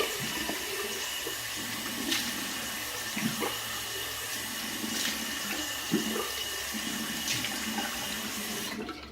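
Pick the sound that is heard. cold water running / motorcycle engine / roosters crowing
cold water running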